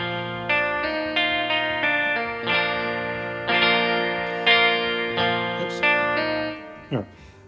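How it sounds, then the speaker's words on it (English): Acoustic guitar strumming a sequence of chords through a chorus effect in GarageBand on iOS, each chord struck cleanly and ringing, about a dozen strums in a steady rhythm before a final muted scrape, with no talk. "Put the chorus on."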